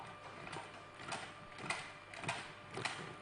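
A sewing machine runs along a fabric edge, giving a soft, steady mechanical whir with a few faint rhythmic clicks, quiet and close, with no talking.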